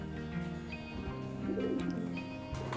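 Domestic pigeons in a loft coo softly and repeatedly, low throaty calls at moderate distance over a constant background hum.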